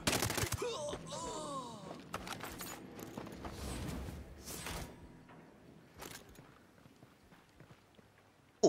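Scattered bursts of video game gunfire crackle in a side-mission shootout, louder at first and then sparser and fainter, with a sharp loud crack right at the end.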